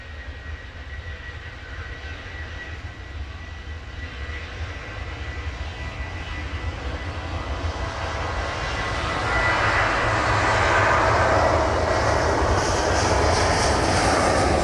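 Ryanair jet airliner taking off under its own power at an airport in wet weather, a broad continuous engine roar that swells and grows louder toward the end, heard at a distance with no voices.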